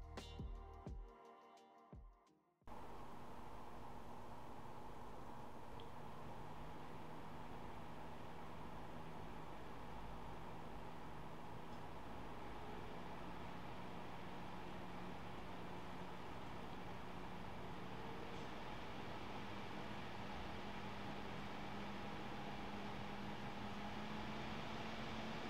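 An Arctic P9 92mm case fan runs with a steady, smooth broadband whoosh and a faint hum, continuous and even after a brief louder noise at the start, with no talking.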